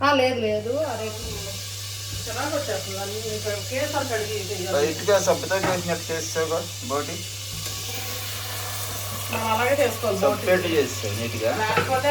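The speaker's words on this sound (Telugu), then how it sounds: "నేనైతే అవి వేపేస్తాను" Gongura leaves fry in a pan with a continuous loud sizzle and hiss, a steady hum beneath and someone talking over it throughout.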